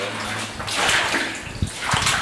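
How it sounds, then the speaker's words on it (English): Water trickles and flows across the floor of the abandoned Winlock Mine tunnel in Washington, a steady close wash of running water with a soft splash partway through, echoing faintly in the enclosed passage. "The water's picking back up again."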